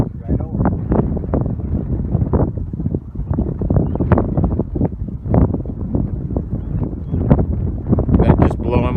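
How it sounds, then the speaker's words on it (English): Wind gusts buffet the microphone in a marsh with a bald eagle overhead, producing repeated loud rumbling bursts in an uneven rhythm, with voices talking throughout. "That was a pretty good gust of wind."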